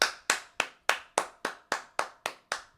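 Ten sharp, evenly spaced hand claps close by, each one distinct and ringing briefly, with no talking.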